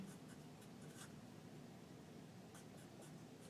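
A pen or pencil writes calculation figures on paper, a faint, close scratching in short strokes over a quiet background, with no talk.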